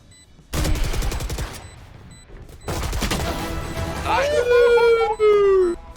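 Automatic gunfire rattles in rapid, close bursts in the video game Valorant, two sustained volleys separated by a brief pause, followed by game sound effects and a voice under the second burst.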